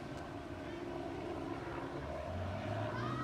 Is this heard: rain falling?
no